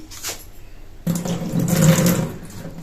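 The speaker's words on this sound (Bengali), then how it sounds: "হাতটা একটু ধুয়ে নিই।" Tap water runs and splashes over hands at a kitchen sink, starting abruptly after a quiet second with a steady rushing and gurgling, fairly close and alone.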